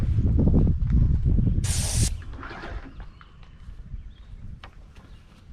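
A loud burst of spray paint hisses for about half a second outdoors at a garden fence after some rumbling handling noise, then quieter scuffing and faint knocks follow.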